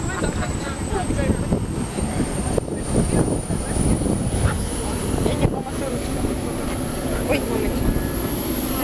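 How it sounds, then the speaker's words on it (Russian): Inside a small passenger airplane with three seats on one side and two on the other, a steady engine drone and whine fills the cabin while people talk over it. "Так, вот наш самолет."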